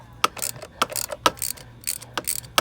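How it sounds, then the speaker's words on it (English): A ratchet with a 10 mm deep well socket works on the intake manifold bolts of a 2005 Jeep Grand Cherokee 3.7L, giving quick, sharp clicking bursts in an uneven rhythm, close and distinct. "these are 10 millimeter deep well socket"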